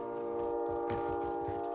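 A train passes nearby in the Call of Duty video game, a steady rumbling hum with sustained horn-like tones throughout, a brief louder surge midway, and no talk over it.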